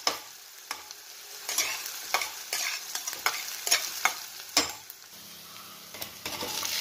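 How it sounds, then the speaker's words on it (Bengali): Onions fry in a pan with oil for a low-oil Bengali chicken curry, a soft steady sizzle broken by repeated sharp scrapes and clacks as a spatula stirs them, close and fairly quiet. "তো ভাজবো একটু লাল লাল হয়ে গেলে তারপরে আমি মশলা দেব।"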